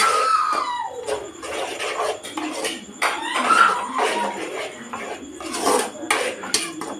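A spoon scrapes and clatters against a pot while spice powder and pepper powder are stirred into a large crab curry, giving repeated close metallic scraping and rubbing strokes with no talk.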